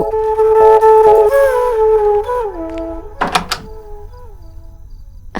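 A door is opened in a Hindi TV drama household. It comes as a short, sharp thump and rattle partway through, over sustained background music tones.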